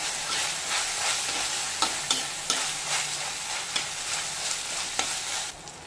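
A ginger, garlic and coriander paste sizzles softly in a pan, a bright, steady frying hiss with regular light taps and scrapes as it is stirred, ending in a brief quieter moment.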